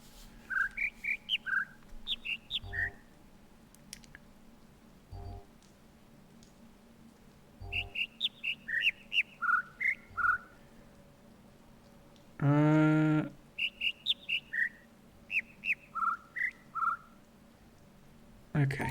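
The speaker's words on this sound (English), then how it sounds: "there's 2 birds going again" Bird calls in the video game The Witness: quick bursts of bright chirping notes repeat in short phrases, fairly near, with one louder harmonic-rich call midway and occasional soft thumps and a low hum beneath.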